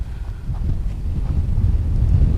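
Gusty wind buffets the microphone during a model airplane's first flight in breezy conditions, a steady low rumble that swells slightly toward the end, with no voices.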